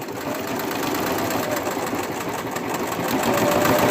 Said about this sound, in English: I'm just going to sew this wedge real quick. Give myself a little bit more stitching.